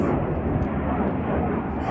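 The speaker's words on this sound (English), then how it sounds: "What you're hearing right now are the jets." Military jets flying over near Luke Air Force Base, a broad continuous roar heard from a residential backyard, steady and fairly loud throughout.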